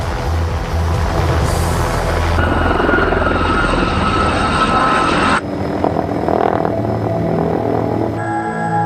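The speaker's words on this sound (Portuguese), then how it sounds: "Um giroplano precisa de velocidade para manter os rotores girando e continuar no ar" Gyroplane rotors whirling in flight, a loud, steady rotor and engine drone that holds for several seconds, then drops in level and shifts tone as the aircraft passes.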